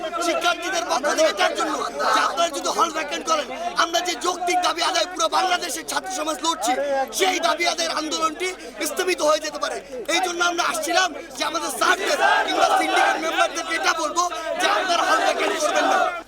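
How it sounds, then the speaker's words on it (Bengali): Students at Dhaka University chanting protest slogans together, a loud rhythmic crowd of many voices shouting in unison with bursts of cheering and crowd chatter, sustained throughout. "হল না ছাড়ার স্লোগান দেয় শিক্ষার্থীরা"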